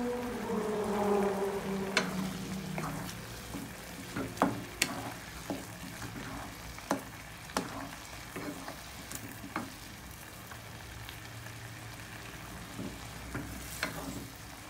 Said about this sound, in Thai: ตอนนี้ก็เดือดปุดๆแล้วนะครับ